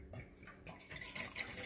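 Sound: water being poured into a can

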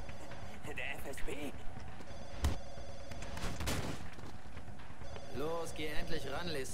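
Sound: telephone ringing in video game Splinter Cell Conviction

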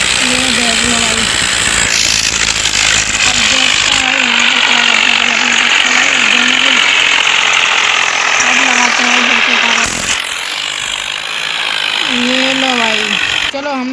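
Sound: tractor engine straining in a tractor tug-of-war

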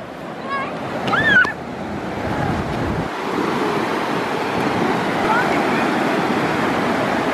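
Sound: ocean waves washing onto a beach

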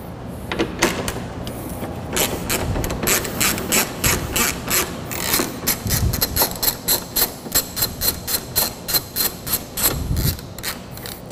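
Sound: screws being worked on Lexus RC300 front bumper

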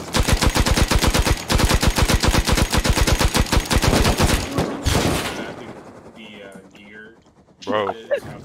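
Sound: gunfire in the video game Rust

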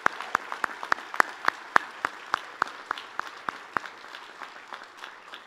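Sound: applause

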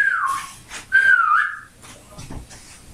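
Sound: whistle imitation

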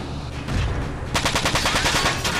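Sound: machine gun fire in the video game Front Mission 4

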